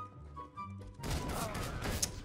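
Gunfire sprayed through a smoke cloud in CS:GO, a dense burst of rapid shots kicking in after a quieter stretch with faint voices and continuing loud and close to the end.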